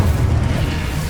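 Incendio fire spell cast in Hogwarts Legacy, a short, loud whooshing boom of flame with a low, heavy roar that holds briefly without trailing off.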